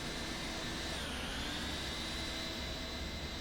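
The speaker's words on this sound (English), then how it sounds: "There's an airplane in the alley behind us." Nearby airplane engine noise in Microsoft Flight Simulator, a steady faint broadband rumble and whine heard from a parked MD-80 cockpit, holding evenly throughout with a slight pitch shift early on.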